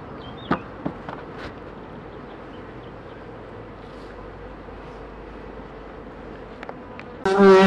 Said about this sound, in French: ici je suis en train de faire la visite hebdomadaire des ruches